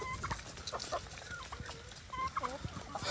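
Several chickens cluck and squawk close by in short, overlapping bursts, sliding on wet, messy ground, with soft scuffling underneath.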